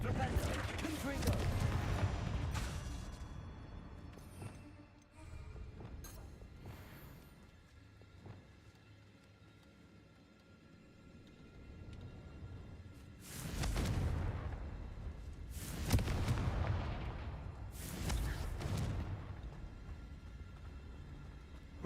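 Explosive spells from Hogwarts Legacy burst in several heavy booming blasts with rumbling tails, spaced a few seconds apart, with quieter spell and ambient sounds between them and a voice speaking in places.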